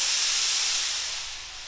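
Compressed air hisses loudly and steadily from a paint spray gun, a broad close rush that eases slightly toward the end, with no talking.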